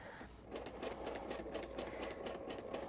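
Sewing machine running a steady zigzag stitch through fabric on a paper greeting card, a continuous close whirring hum with a rapid, regular needle rhythm after a brief quieter start, with no talking.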